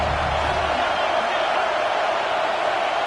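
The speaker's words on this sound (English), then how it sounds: "Decibels rising as the crowd gets behind this defense on third down." A football stadium crowd at an Oregon vs Illinois game roars for the defense on third down, a dense, loud and steady wall of cheering that holds at the same level throughout.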